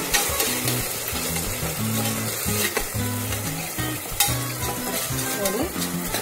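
Tomatoes fry loudly in a pan, a dense close sizzle with occasional stirring scrapes, and background music plays underneath.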